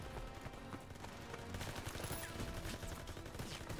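Gunfire in the video game Call of Duty: WWII, set on D-Day: dense, continuous crackling fusillade with rapid bursts, moderately loud and sustained throughout.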